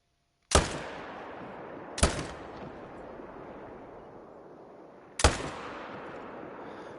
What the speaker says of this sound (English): Well, I guess we'll go ahead and shoot